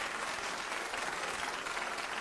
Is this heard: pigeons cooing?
no